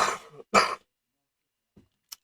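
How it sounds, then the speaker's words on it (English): Two harsh coughs close together, followed by silence and a couple of faint, brief sounds, with no talking. "sorry about the cough"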